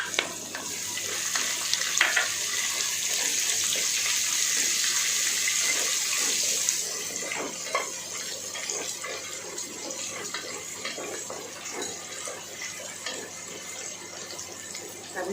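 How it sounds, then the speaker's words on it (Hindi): Sliced onions go into a pan of roasting whole spices for mint rice, setting off a loud, steady sizzling hiss that settles after several seconds into softer, crackling frying. "इसके बाद हम इसमें डाल देते हैं प्याज,"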